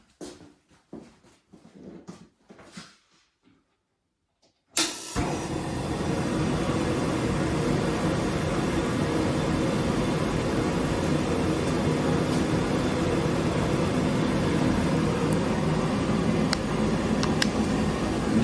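A propane heater fitted to a homemade powder coat oven fires up after a few seconds of quiet, faint talk. It ignites with a sudden whoosh, then settles into a loud, steady roar that continues to the end.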